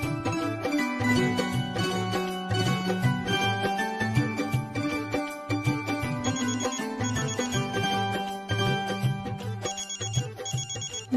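A phone rings with a repeating electronic ringtone melody, steady and fairly close, playing alone without any talk.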